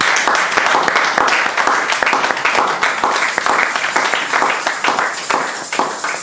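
A church congregation claps and applauds to acclaim the Lord, a dense, loud, steady wash of many hands close by that carries on throughout without letting up.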